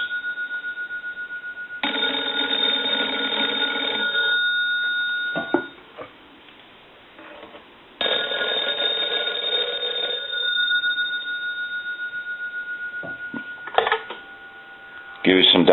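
A candlestick telephone's bellbox rings in two long bursts of rapid metallic clanging, each a couple of seconds long with pauses between, followed by a few brief clicks and handling knocks.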